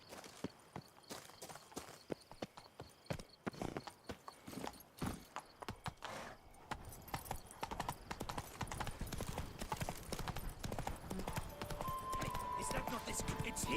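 Roach, the horse in The Witcher 3, gallops with rapid rhythmic hoofbeats that stay fairly quiet and continuous as the pace builds, with some in-game sound mixed in.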